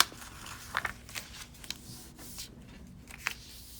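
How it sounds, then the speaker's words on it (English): A sheet of paper being shifted and adjusted on a desk, giving soft, faint rustles and a few light crinkly scrapes spread over a quiet moment. "Now adjust the paper so we can see Lesson"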